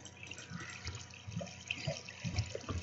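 Water being placed in Minecraft, a soft bubbling, trickling flow that swells in a few splashy pulses over nearly three seconds, fairly quiet throughout.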